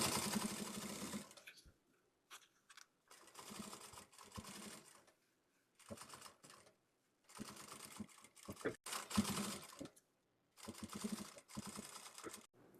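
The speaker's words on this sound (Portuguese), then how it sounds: "vou passar uma costurinha lateral, lateral e base" Sewing machine stitching the side and bottom seams of a fabric lipstick pouch: close, rapid mechanical chattering in short bursts of one to two seconds, separated by pauses of silence.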